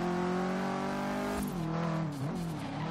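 Subaru WRX engine with turbo lag in Forza Horizon 3, humming steadily at a held pitch before revving and dipping through quick pitch swings, with a brief tire squeal near the end.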